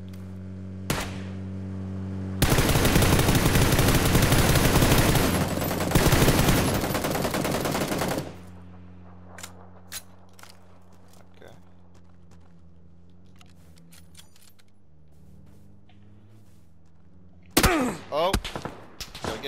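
Light machine gun fire in PUBG, a loud sustained burst of rapid automatic shots lasting several seconds, then quieter in-game ambience with scattered clicks and a short second volley near the end.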